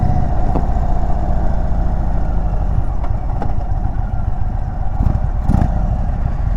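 A 2023 Indian motorcycle engine with stock exhaust idles close by, a steady low throbbing exhaust note with a few brief sharper pops.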